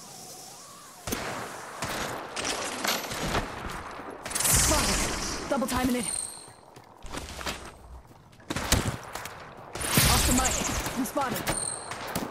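Video game gunfire crackles in repeated bursts of rapid automatic fire, some close and loud, others farther off, with footsteps and short radio-style voice lines in between.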